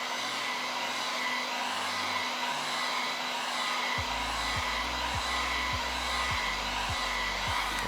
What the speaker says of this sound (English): So we're going to use a blow dryer and just kind of go around it and let it dry.